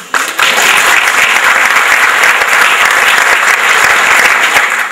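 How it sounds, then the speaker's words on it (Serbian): Sustained audience applause at a Democratic Party local gathering in Smederevska Palanka, a dense, steady clatter of many hands that starts abruptly and stays loud throughout. "Molim da aplauzom pozdravljamo"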